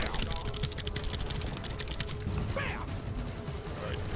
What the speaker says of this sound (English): Can you hear my keys?